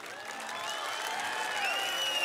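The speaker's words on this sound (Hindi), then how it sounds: "अभी भी तालियां कम है आपकी।" Applause from an audience at a literature festival in Quetta, a steady wash of clapping with crowd noise that holds and swells slightly over two seconds, with no talk.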